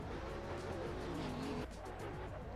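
A Nissan race car drives hard on a course at a DCGP competition, its engine droning steadily with tire noise and a brief shift in pitch partway through, heard from moderately close.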